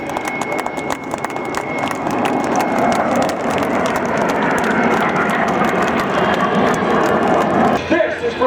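A Patriot Jet aircraft roars overhead at the Reno Air Show, a broad, sustained jet rumble that swells and holds steady beneath a public-address announcer talking.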